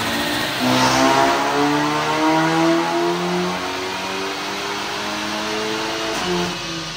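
VW Gen 4 EA888 turbocharged engine revving hard on a dyno during a tuning pull, a loud sustained climbing engine note with rising harmonics over about seven seconds, close and without talk.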